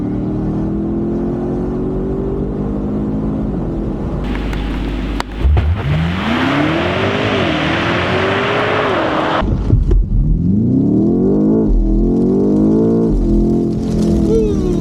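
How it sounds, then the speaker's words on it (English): A BMW M5 Touring accelerates hard, its turbocharged engine rising through revs with a whirring turbo note and a gear change midway. The sound is loud and close, as from inside the car. "Good amount of turbo noise. A lot of turbo."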